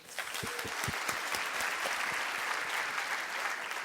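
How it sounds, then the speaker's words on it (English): Large audience at a live podcast event breaking into steady, dense applause that holds at an even level throughout, fairly distant and without talk. "Give a round of applause."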